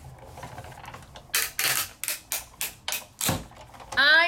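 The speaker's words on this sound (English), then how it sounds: "That's the sound of die cutting happening." Die cutting machine pressing plastic vellum gives a series of sharp crackling bursts, about six close snaps in a row, followed by a brief rising creak; quiet room between bursts.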